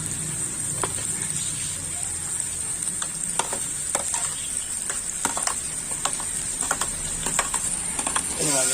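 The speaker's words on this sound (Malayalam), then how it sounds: "അതിനെ ഇതോട്ട് നമ്മൾ വഴറ്റിയെടുക്കാം." Three chopped onions sautéing in a pan for a dragon chicken dish, a continuous close sizzle with sharp clicks as a spoon stirs and scrapes the pan.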